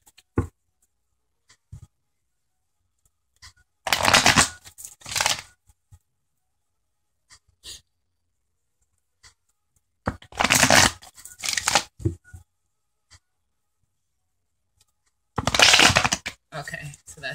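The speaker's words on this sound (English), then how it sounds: "So let me shuffle these on camera." Tarot cards are shuffled in three separate bursts of quick riffling and flicking, close up, with long quiet gaps between them.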